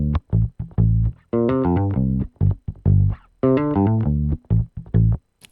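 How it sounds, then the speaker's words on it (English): Funky bass line played on a green Jackson bass guitar, with choppy, rhythmic notes and short stabs broken by brief gaps, loud and alone with no talking. "This is the bass guitar that I used."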